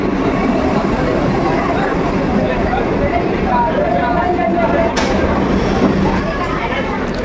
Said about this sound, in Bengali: এ বন্দে ভারত যাচ্ছে গাইস।